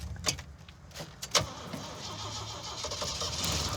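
An AMC Pacer on an off-road trip is started in second gear, with a few sharp mechanical clunks and clicks before the engine catches into a steady, moderately loud running rumble.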